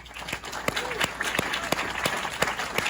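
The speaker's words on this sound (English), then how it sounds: "that long applause followed by looking around" Applause at an annual awards ceremony after a winner is announced, with a dense crowd clapping alongside sharp, distinct close claps standing out in a loose rhythm, and voices murmuring underneath.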